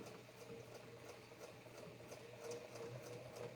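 An embroidery machine stitches steadily along a quilting template pattern near the edge, giving a continuous mechanical hum with a faint rapid needle tick, and no voices.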